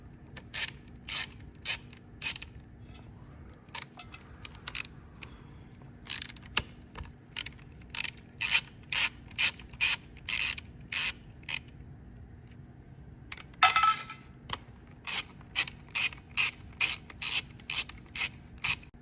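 A 10mm socket ratchet removes bolts from the engine of a VW MK8 GTI, giving bursts of close, crisp clicking with short pauses between runs of turns.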